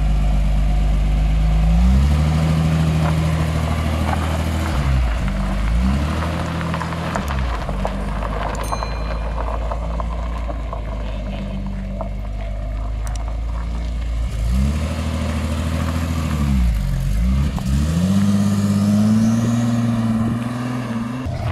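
A Venturi 260 sports car's 260-horsepower PRV V6 engine starts and idles with a deep, loud rumble, rising in a few sharp revs before settling back to idle.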